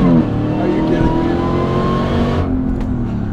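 A Jeep Gladiator on 40-inch tires with a swapped-in Dodge Demon engine roars loudly under hard acceleration, with a sustained rising engine note heard from inside the cabin that eases off near the end.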